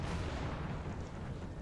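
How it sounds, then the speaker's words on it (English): Cannon fire from massed artillery in the Napoleon: Total War battle game, a dense continuous rumble of booming shots blended into loud sustained battlefield roar. "we'll keep that cannon fire focused onto the general"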